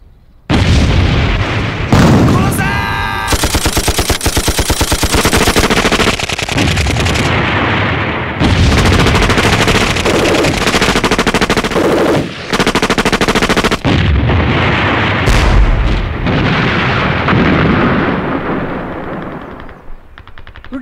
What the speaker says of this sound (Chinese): 哎，这炮声不是在附近啊？